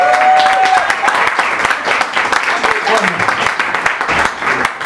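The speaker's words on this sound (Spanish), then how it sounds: "Un aplauso para el Rafa, por favor." Audience applause for the performer Rafa at a tango night show, a dense steady wash of clapping lasting throughout, with a sustained tone early on and some voices mixed in.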